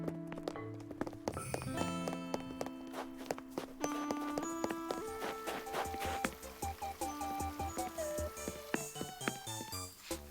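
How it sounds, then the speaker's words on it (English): Footsteps on snow in Animal Crossing: New Horizons, a steady run of soft crunchy taps under cheerful melodic game music, fairly quiet and regular. "Listen to the snow footsteps sound"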